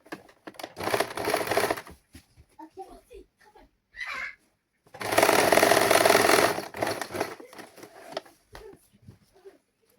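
Sewing machine stitching the front lining of a princess-cut saree blouse, loud motor-driven whirring in two longer bursts and a few short runs, close, with someone talking between the bursts.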